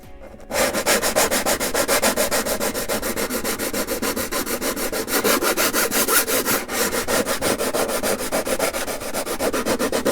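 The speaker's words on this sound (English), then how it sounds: "I'm going to sand this just to make it smooth" Steady, continuous sanding of the fiberglass-covered leading edge of a vintage Barnstormer 25S RC plane wing, a close, even abrasive rubbing with rhythmic strokes that runs without pause after a brief quiet start.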